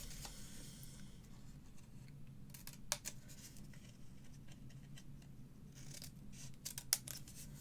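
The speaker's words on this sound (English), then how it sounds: "And now you're going to cut this one away." Scissors snipping away a paper tab while making a small paper vanity case, a few quiet, close crisp cuts in short clusters over faint background, no talk.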